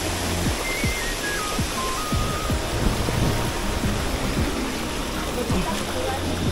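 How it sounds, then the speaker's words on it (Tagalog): Steady, dense hiss of heavy rain on a mountain hiking trail fills the whole clip, with scattered low thumps and faint background voices underneath. "Malakas yung ulan."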